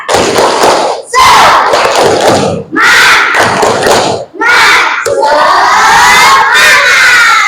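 Schoolchildren in a classroom do a loud, spirited rhythmic clap chant, with bursts of clapping and shouted chanting in several energetic phrases broken by short pauses, ending in a sustained group shout.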